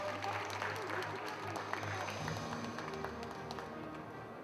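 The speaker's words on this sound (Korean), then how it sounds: "회장 스님께 큰 박수 주시기 바랍니다." Applause for the head monk at a Buddhist preservation society's founding ceremony, soft and fairly distant clapping from the gathered audience over a low steady hum, tapering slightly near the end.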